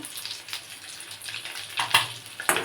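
Egg devils fry in hot oil in a pan, a soft continuous sizzle with occasional louder crackling spurts, close and without talk.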